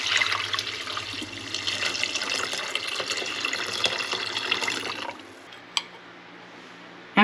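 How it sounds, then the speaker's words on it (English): Water runs steadily into a soup pot holding fresh corn for a tofu and bok choy soup, a continuous close pouring rush for about five seconds that stops abruptly, followed by a quiet room and a couple of brief clinks. "Now all you add is water."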